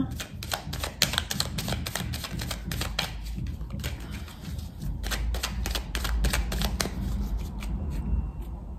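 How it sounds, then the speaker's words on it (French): A deck of tarot cards being cut and handled, giving quick rapid flicks and riffling clicks up close, in dense bursts with short pauses between them, and no voice over it. "Et on va faire la coupe tout de suite."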